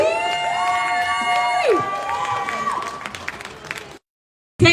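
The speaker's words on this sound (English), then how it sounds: "So massive round of applause for Anne" A crowd cheers and applauds for a woman taking the stage to speak at a campaign rally in Wales, loud whoops and shouts rising over clapping before cutting to silence.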